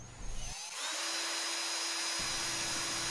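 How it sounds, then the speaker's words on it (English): Power drill boring pilot holes through thick PVC for a golf cart windshield, a steady close whine starting after a brief pause and running continuously to the end. "so I drill pilot holes"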